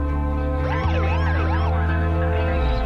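An ambulance siren outside a house where police are present wails in rising and falling sweeps for a few seconds. It sits over a steady low hum and layered background tones, with no speech.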